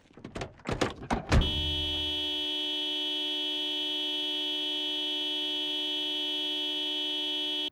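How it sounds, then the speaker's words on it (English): Following a few short thumps, a video game car horn blares in a single long, steady, flat tone that holds unbroken to the end. "Just do a little honk."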